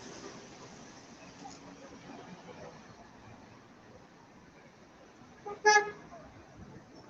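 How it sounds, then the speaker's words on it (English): A bus on a city street in Daejeon, South Korea, sounds one short, loud honk over steady outdoor traffic noise. "The bus is honking."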